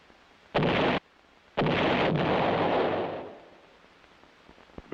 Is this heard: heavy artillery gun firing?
yes